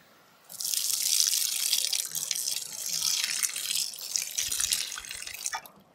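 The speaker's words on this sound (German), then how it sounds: "Und das war der Knieguss nach Kneipp, ausgeführt mit der Gießkanne." Water pours steadily from a watering can onto legs for a Kneipp knee affusion, a continuous hissing splash that starts abruptly, runs for several seconds and stops.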